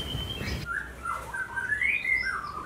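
Songbirds at an Indonesian bird-breeding farm in Jogja chirp and whistle in a string of bright, overlapping calls, with a steady low background hum and a brief burst of noise at the start.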